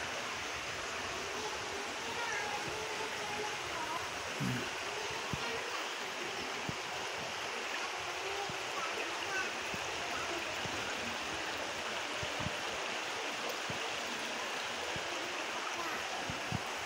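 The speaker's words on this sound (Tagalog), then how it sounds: "Bagong baha dito sa Sapa." A shallow creek swollen by fresh floodwater flows in a steady, broadband rush with constant close water noise throughout, no clear voices over it.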